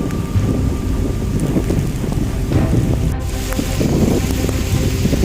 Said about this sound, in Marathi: जोराचा पाऊस चालू झाला एकदम